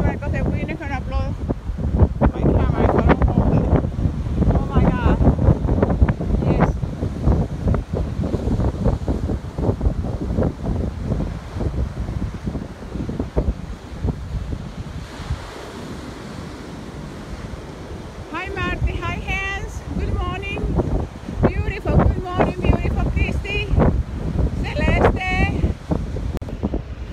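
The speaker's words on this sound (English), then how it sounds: "I have to probably hold the camera because the wind is gonna blow." Strong wind buffets a camera microphone outdoors on a cold, windy 54-degree day, giving a dense, continuous low roar with gusty surges throughout and a brief stretch of voices talking near the end.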